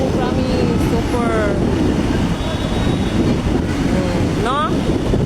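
Strong wind roars steadily into the microphone near Marcos Bridge, a constant broadband rush through the whole stretch, with a voice speaking over it.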